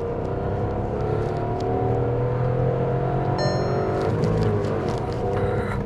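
Skoda Kylaq with a 1.0L turbo petrol engine and manual gearbox under acceleration, heard as a steady, fairly loud engine drone with road and wind noise and a slight rise in pitch, with no voices.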